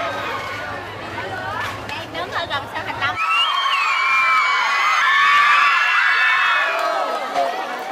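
A crowd cheers on a street in Ho Chi Minh City, Vietnam, as footballer Park Ji-sung arrives for a charity match: mixed chatter and shouts build into a sustained, loud wave of high-pitched cheering and screaming.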